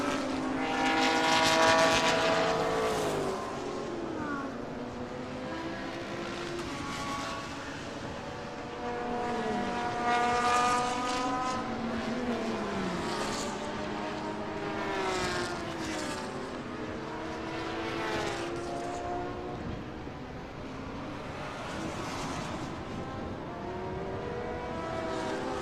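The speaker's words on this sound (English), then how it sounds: "You hear the engine gunning around right here." Race car engines roar and accelerate around the track at the B-Quik Thailand Super Series 2022, several cars passing with rising and falling whines, loud and continuous throughout.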